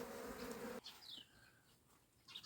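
Honeybees buzz around a hive in an autumn apiary in a faint, steady hum that drops away after a moment, leaving softer scattered buzzing close by.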